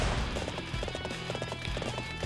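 Cavalry horses gallop in a Dynasty Warriors 7 battle, a steady drumming of hooves with an occasional whinny, loud and close against a busy battlefield backdrop.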